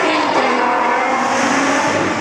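A silhouette race car powers past at a city race demo in Assen, its loud engine roaring close by in a short, sustained high-revving burst.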